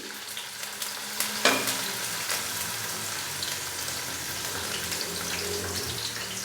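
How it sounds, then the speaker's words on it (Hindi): Chopped onion frying in cooking oil in a pan, a steady close sizzle throughout with occasional stirring clinks and a brief sharp knock early on, no voices. "प्याज डालने के बाद अभी हम प्याज को 3 से 4 मिनट के लिए अच्छे से फ्राई करेंगे"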